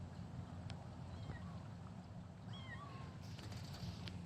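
A mother cat gives a few short, faint meows outdoors after a snowstorm, thin calls rising over a steady low background rumble.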